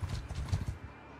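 Horses ridden in the Mount & Blade 2 video game, a quick run of hoofbeat clip-clops heard up close for about a second before trailing off.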